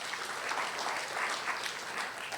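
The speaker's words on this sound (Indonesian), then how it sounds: "Tepuk tangan untuk Tuhan." A church congregation claps during a sermon, a steady, even wash of applause from many hands that holds at moderate loudness for a couple of seconds, with no voices standing out.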